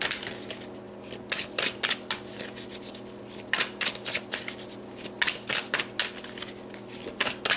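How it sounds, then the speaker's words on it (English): Tarot cards being shuffled and pulled for a reading, making crisp riffling bursts in quick irregular clusters, close and fairly quiet, with no talking. "So let's pull some cards to see where you are coming from exactly."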